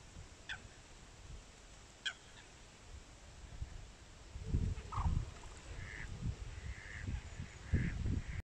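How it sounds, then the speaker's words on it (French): Mallard ducks call beside a lake where a small gull also lingers, with several hoarse quacks and a few higher cries over a steady outdoor background, moderately near and clearer toward the end. "Une petite mouette qui cohabite avec quelques canards colverts"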